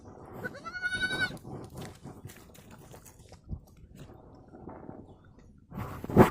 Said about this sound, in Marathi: ही आमची बारकी बकरी जांभळं उचलून खाते